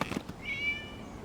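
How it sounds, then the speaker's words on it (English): A cat in the video game Genshin Impact gives a single short meow, clear and close, after a few soft brief noises, with quiet surroundings. "It was just a cat."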